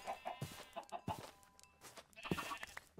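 A chicken in RLCraft, a modded version of the video game Minecraft, clucks in several short, fairly close bursts with no talking over it.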